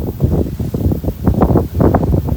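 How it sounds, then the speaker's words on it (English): Gusty wind buffets the microphone outdoors in a residential neighborhood of newly built homes, a continuous low roar rising and falling in uneven surges for the whole stretch. "Yeah, it's windy, yeah, but it's cool."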